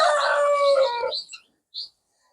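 An indigenous free-range chicken gives a loud, drawn-out crowing call up close, then a short chirp follows after a brief pause.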